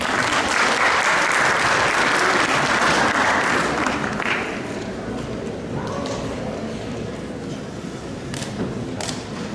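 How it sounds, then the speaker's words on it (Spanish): A university audience at a lecture on Ecuador's energy crisis claps, loud and dense at first and thinning after about four seconds to scattered claps. A voice may sound faintly underneath. "Un aplauso, por favor."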